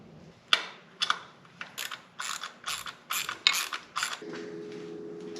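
A hand ratchet working a rotor bolt on a motorcycle while a magnetic bolt is fitted in its place: about eight sharp clicking ratchet strokes in a steady rhythm, close and clear, ending in a low steady hum.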